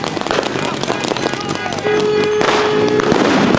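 Flashbangs and pepper balls going off in a loud, dense din of sharp pops and bangs over continuous crowd noise, with no break in the chaos.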